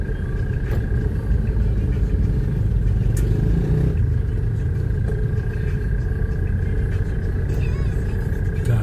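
Cars crawl through traffic on a flooded neighbourhood street in Barangay Santa Lucia, Metro Manila, after Typhoon Carina, giving a steady low engine rumble with faint clatter and occasional distant voices.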